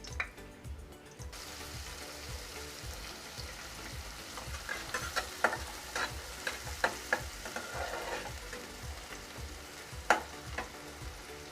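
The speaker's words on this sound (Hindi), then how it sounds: "घी डाल दी हूँ मैं। अब इसमें प्याज डालें।" Onions frying in ghee in a kadhai for Punjabi sarson ka saag hiss with a steady close sizzle, broken by scattered scraping clicks from stirring and a brief clatter at the start.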